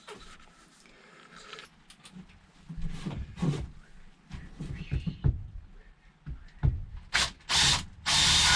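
A part is screwed into a corner of a rotten camper with a ratcheting tool or drill, giving irregular mechanical clicks and bursts that grow louder toward the end.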